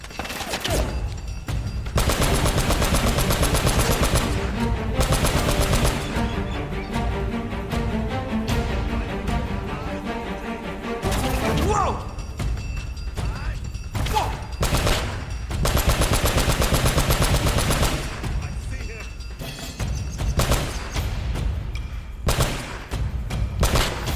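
A heavy machine gun turret in Uncharted fires in long, loud sustained bursts, dense rattling volleys broken by short pauses and thumping impacts.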